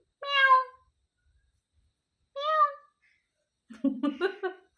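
A pet parrot imitates a cat's meow, giving two separate clear, drawn-out meows with a pause between, followed by brief voice-like chatter.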